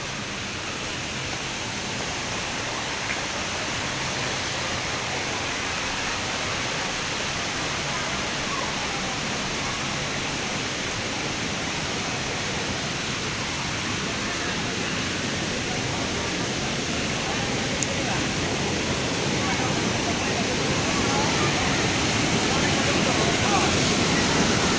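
Taytay Falls pours in a constant broadband rush of falling and flowing water, loud and near and unbroken throughout.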